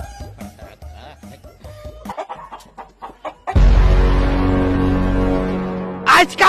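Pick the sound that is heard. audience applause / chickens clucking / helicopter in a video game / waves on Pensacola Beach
chickens clucking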